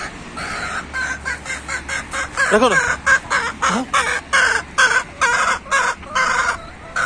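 A rooster clucks in short, loud, evenly spaced bursts in a pigeon coop, with a brief crowing call in the middle and someone speaking quietly at one point.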